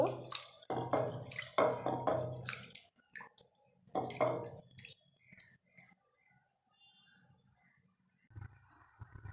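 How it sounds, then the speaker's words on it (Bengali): Rice is washed by hand in a bowl of water for date-palm jaggery rice pudding, giving repeated wet swishing and grainy clicking for several seconds before quieter dripping and a short splash near the end. "চাল ভালোভাবে ধুয়ে নেব কুচলিয়ে কুচলিয়ে সুন্দর মতো"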